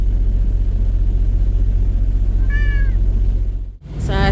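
A house cat meows inside a semi-truck cab on a winter over-the-road haul, giving a couple of clear, close meows over the steady low rumble of the idling engine. No one speaks.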